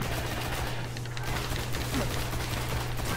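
Rapid automatic gunfire in the PS4 shooter Destiny, a dense, loud, continuous burst of shots with no pauses.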